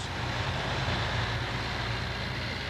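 Monster truck racing engine roaring loud and constant as something breaks inside, a dense mechanical drone with no distinct pauses.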